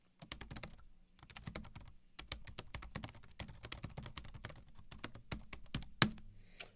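Fingers type on a Logitech K380 non-mechanical Bluetooth keyboard, producing soft, close, quick key taps in irregular bursts with brief pauses and one sharper clack near the end, no voices.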